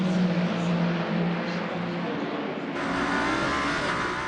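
Race cars roaring through the 6 Hours of Spa-Francorchamps endurance race, a loud continuous engine drone that shifts pitch midway as cars pass close by, with no talk.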